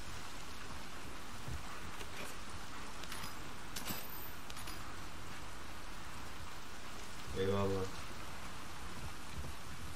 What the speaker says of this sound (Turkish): Yağmur çok güzel yağıyor